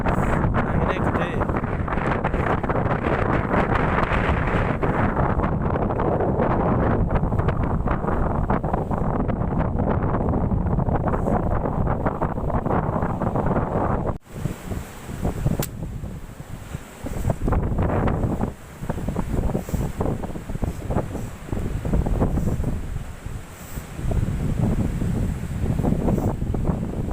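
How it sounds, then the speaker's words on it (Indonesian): Strong wind roars across the microphone at the Watu Mejo seaside fishing spot in Jogjakarta, a loud, constant buffeting for about half the time that then breaks into gusty bursts over distant surf. "Oh, anginnya gede."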